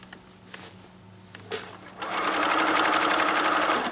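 A sewing machine stitches a newborn mermaid outfit, its rapid steady whir starting after a couple of seconds of quiet handling noises and running close and continuous to the end.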